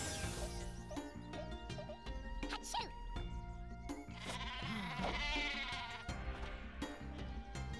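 Cartoon sheep bleating repeatedly in the Worms: Clan Wars video game, loud and close over busy game music and effects.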